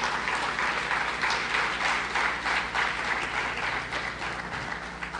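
Steady applause from a large audience at a leadership talk, dense clapping sustained at even strength throughout, fairly close and filling the room with no voices over it.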